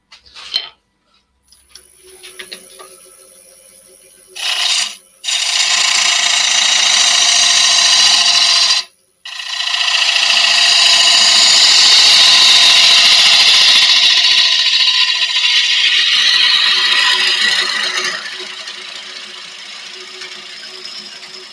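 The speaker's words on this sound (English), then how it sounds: "wire brush, circular wire brush that I used in the drill there." A power drill spins up with a harsh, whirring scrub of a wire brush against metal, loud and close, stopping briefly and starting again.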